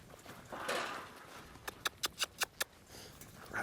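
Hooves of a horse working cattle, a quarter horse or large warmblood, give a quick run of about six sharp clops close by over low ambient noise.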